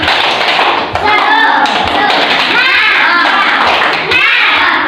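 A classroom of young children doing the "tepuk semangat" clapping chant, loud close hand claps in a quick rhythmic pattern mixed with chanted children's voices throughout.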